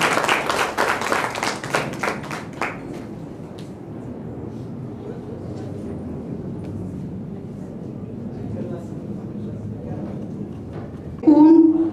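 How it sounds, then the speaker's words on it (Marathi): An audience at a Pune district carrom tournament ceremony claps for senior citizen players, a short burst of applause that fades within a few seconds, followed by someone speaking over a faint hall hum. "त्यामुळे खरंच एकदा ज्येष्ठ नागरिकांसाठी जोरात टाळ्या वाजवायला हव्यात."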